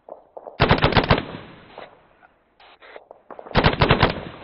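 Rapid machine-gun bursts from an A-10C in a military flight simulation game rattle out loud and close, two long volleys separated by a quieter gap with a few short clipped bursts in between.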